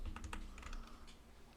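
Keys tap briefly on a computer keyboard as a command is typed, a handful of quick soft clicks close by and faint.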